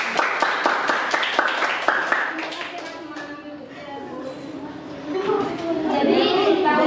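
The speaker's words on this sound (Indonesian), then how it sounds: "kita beri tepuk tangan" Classroom audience clapping at a teaching session starts as quick close hand claps that thin out after a few seconds, then give way to chatter and voices talking.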